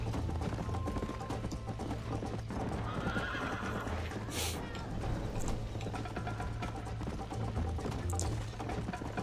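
Horse whinnying and hooves clip-clopping in Red Dead Redemption on Xbox 360, a steady galloping rhythm throughout with a couple of neighs over quiet game ambience.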